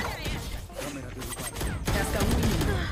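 Bursts of gunfire crackle through a video game shootout, the shots coming in rapid clusters amid dense in-game noise, with voices chattering underneath.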